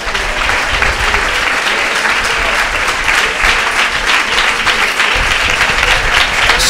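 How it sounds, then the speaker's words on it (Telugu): A church congregation claps loudly while praising, a dense steady roar of many hands filling the room without a break, close and full. "విశ్వాసంతో స్తుతిస్తూ చప్పట్లు కొట్టండి."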